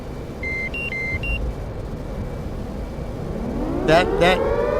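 Cockpit warning tones in a DCS F/A-18C Hornet flight simulator: a few short electronic beeps at the start over steady engine and background noise, followed by a rising whine and two brief, sharper bursts near the end.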